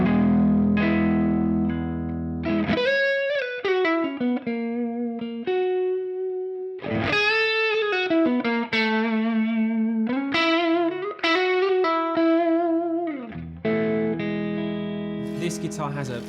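An Epiphone Firebird electric guitar alternating thick, rich lead lines with clean passages, ringing single notes and short phrases with audible vibrato, loud and close with no talk over it.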